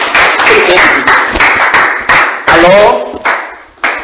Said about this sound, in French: Applaudissez donc pour le frère.